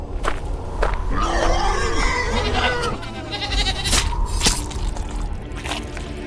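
Goat bleating before a ritual slaughter, several wavering cries close by amid wet squishing and dripping sounds, with voices speaking over parts of it.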